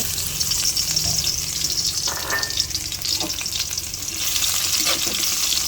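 Garlic sautéing in a pan, a dense continuous sizzle with occasional stirring scrapes and clinks, fairly loud and close, no talking.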